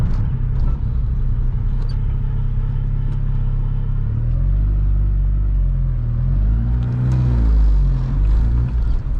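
A VW MK2 16V engine fitted with CBR900RR carburetors on individual throttle bodies runs steadily, a loud deep rumbling idle with a slight rise in pitch partway through as light throttle is applied.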